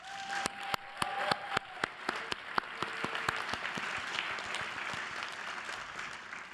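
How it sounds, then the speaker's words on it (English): Graduation-ceremony audience applauding professors at an engineering school commencement, a sustained crowd clapping with a few sharper individual claps standing out early, fairly distant in a large hall. "let's give them a round of applause."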